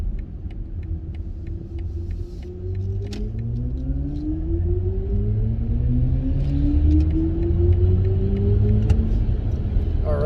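A 2022 BMW iX xDrive50 electric car accelerating onto a highway, heard from inside as a rising, sweeping motor whine over a steady road rumble that builds in loudness through the run.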